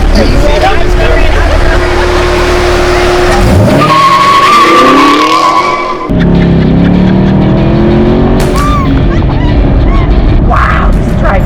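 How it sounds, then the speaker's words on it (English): A 2022 Dodge or Chevy car drives and swings through a turn, its engine loud and close with tires squealing through the corner, while people talk and exclaim over it. "Wow, this drives great. Wow, look at how it takes the turn."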